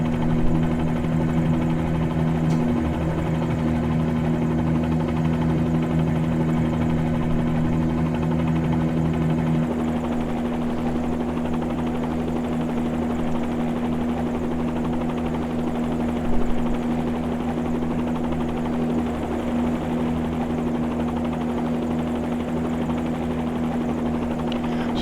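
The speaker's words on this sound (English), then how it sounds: "the fly-in side Bell 47G, which is what we're flying today" A Bell 47G helicopter in Microsoft Flight Simulator 2020 drones continuously with a steady rotor and engine hum, loud and constant throughout, with no speech.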